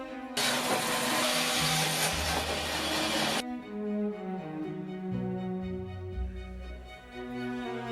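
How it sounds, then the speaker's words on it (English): A power cutter tears through a knotted Leylandii root in one loud, rough burst lasting about three seconds as excess wood is cut away before turning. Quieter tonal sounds follow once the cut stops. "To begin sculpting the wood, the artisan skillfully cuts away the excess, creating a more balanced and streamlined shape."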